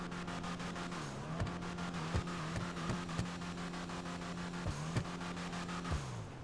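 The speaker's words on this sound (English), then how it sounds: "let's give it some gas and rev it up" Bravado Dorado car in GTA Online, a stick-shift vehicle idling with a steady low engine hum broken by several short revs in an uneven rhythm, close and moderately loud with no talking.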